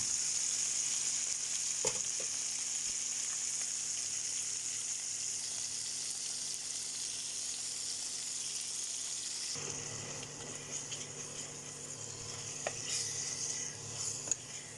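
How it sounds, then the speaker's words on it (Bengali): Fish fries in a pan of hot oil with a steady, hissing sizzle that runs throughout, grows rougher and more crackly partway through, and carries a few faint clinks. "মাছ ভাজা শেষ"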